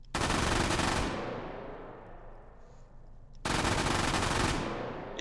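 An MG42 machine gun fired from the shoulder in the VR game H3VR lets off two long, loud automatic bursts, the first about a second long and the second longer, each followed by a booming echo that slowly decays.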